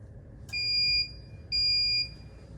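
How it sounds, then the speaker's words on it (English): An outdoor protection system gives two short, clear electronic beeps during sensor configuration, each about half a second long with a brief gap, sharp and alone over a quiet background. "so 2 short beeps confirm the configuration mode"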